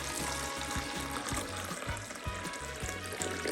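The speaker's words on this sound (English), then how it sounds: "I'll top off his water bowl." Water trickles and splashes as a snake's water bowl is topped off, a light pouring sound with irregular little drips and knocks close by, no voices.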